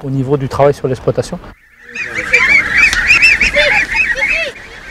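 Geese raised for foie gras honk repeatedly in a noisy, overlapping chorus, loud and close, after a brief burst of honks and a short pause.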